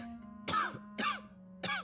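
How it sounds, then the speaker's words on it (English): A woman's coughing fit in a small dwelling: three harsh, raspy coughs in a row, close and clear, each one trailing off into a wheeze. "She lets loose with another fit of coughing, loud enough this time to echo in the small dwelling."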